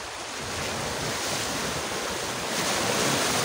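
Large sea waves at night off the Philippine coast, a continuous roaring wash of surf with wind noise buffeting the microphone, steady and broad with no voices.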